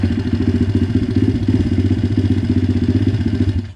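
An MRF 170 pit bike fitted with Daytona 190 engine parts runs after a kick start, its loud, close engine idling in a steady rapid putter without revving.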